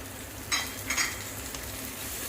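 Onions and ginger garlic paste frying in oil for mutton biryani, a steady close sizzle with a few soft scraping stirs of a spoon in the pan.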